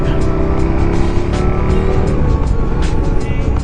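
KTM 1290 Super Duke R motorcycle on a test ride, its engine a loud, steady, close drone with rising pitch and constant wind rush throughout.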